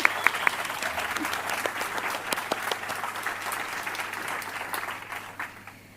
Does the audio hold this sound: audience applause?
yes